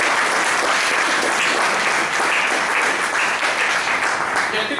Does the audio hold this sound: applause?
yes